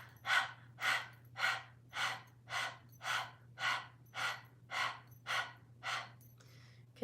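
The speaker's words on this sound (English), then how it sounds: "You stick your tongue out and begin, just as it sounds, panting like a dog." Person doing breath of fire yoga breathing pants like a dog with the tongue out, about eleven quick, even, breathy huffs in a steady rhythm, soft and close over a faint low hum.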